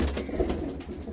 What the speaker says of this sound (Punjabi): ਆ ਜੋੜਾ ਹੀ ਆ, ਆਹ ਕਬੂਤਰੀ